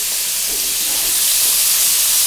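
Carrots frying with salt in a hot pan give a steady, loud, even sizzle and hiss that runs unbroken from start to finish, with no talking over it.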